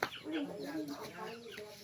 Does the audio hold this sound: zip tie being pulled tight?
no